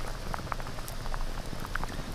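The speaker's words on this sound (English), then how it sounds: "let's get those steaks on the grill" Elk steaks sizzle steadily on a grill, a continuous crackling hiss with scattered small pops, close and moderately loud, with no talking.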